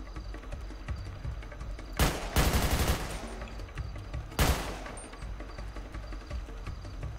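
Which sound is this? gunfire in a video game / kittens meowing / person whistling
gunfire in a video game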